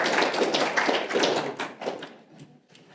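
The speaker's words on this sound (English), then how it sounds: "Claps, snaps, all of the above." A poetry-night audience welcomes a featured poet at a venue with a brisk patter of snaps and claps, many quick taps blending together before thinning out and fading.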